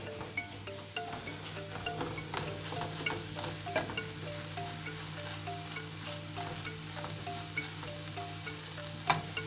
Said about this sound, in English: And then now we stir this.